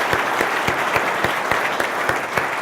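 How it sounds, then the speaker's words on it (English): An audience at a corporate event applauds the company's newest employee; continuous clapping with a few sharper, louder claps standing out at a fairly regular rhythm. "give her a nice round of applause"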